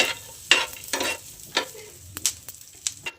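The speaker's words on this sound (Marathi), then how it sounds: "भाजले आता बोंबील लाल मिरची आणि लसूण" Dried bombil (Bombay duck), red chillies and plenty of garlic dry-roasting in a pan, heard as a quiet sizzle broken by sharp, irregular stirring scrapes and clatters close by.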